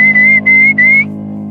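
A whistled, turkey-like call made with a diaphragm call imitating a wild turkey: one loud, steady high tone broken into three short connected notes over a low hum, then ending, with no talk.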